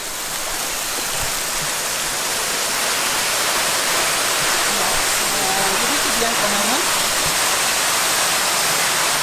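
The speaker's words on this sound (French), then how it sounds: "On est au pied de la chute." Waterfall heard from its base, a loud, dense and steady roar of falling water filling the whole scene, with someone speaking briefly and faintly underneath.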